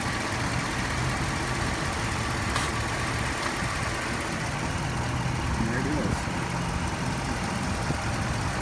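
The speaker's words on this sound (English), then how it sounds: "I can hear more sound coming from the engine" A car engine with its air pre-filter removed idles steadily and nearby on a roughly 65-degree day, a constant low rumble throughout, with a person speaking briefly over it.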